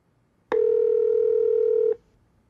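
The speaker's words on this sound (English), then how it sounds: "Voice control can find anybody in my address book instantly and dial any of their numbers." An iPhone 3G S sounds a single steady electronic tone after a voice-control call command, about one and a half seconds long, clear and close with no talk over it.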